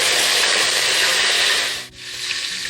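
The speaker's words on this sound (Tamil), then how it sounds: "அடுத்து ஒரு கொத்து கருவேப்பிலை சேர்த்துக்கலாங்க." Curry leaves drop into hot oil with popped mustard seeds and fenugreek, giving a loud, steady sizzle that briefly dips and then picks up again.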